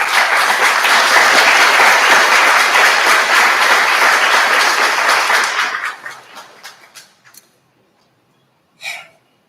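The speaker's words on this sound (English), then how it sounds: "We have to give them thanks and a round of applause, please." A large audience at a nursing pinning ceremony breaks into loud, dense applause that holds steady for several seconds, then thins to a few scattered claps and fades, followed by one brief sound after a pause.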